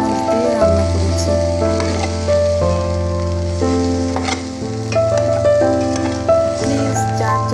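Pointed gourd and shrimp fry in a pan with very little oil, crackling in a loud, steady sizzle with stirring scrapes, close up and continuous.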